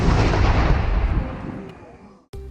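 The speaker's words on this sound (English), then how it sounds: "fire an 1860s style Civil War period cannon" A loud boom from an 1860s-style Civil War period cannon fired at Fort Macon, a single heavy blast rolling off into a long decaying rumble before a sharp cut.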